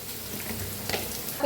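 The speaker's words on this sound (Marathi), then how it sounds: "छान भाजून घेऊया मिक्स करून आता हलकासा भाजला" Potato and onion vegetable mixture sautéing in a pan, a brief low sizzle with a couple of spatula scrapes and a sharper clink at the end.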